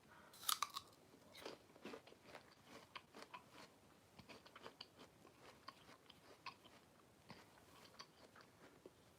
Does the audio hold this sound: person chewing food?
yes